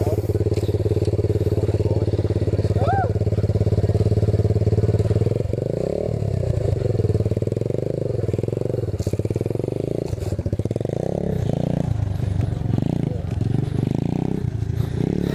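Apollo 125cc dirt bike engine idling and revving up close, a steady loud thrum that surges and shifts as the rider pulls away, with people talking over it.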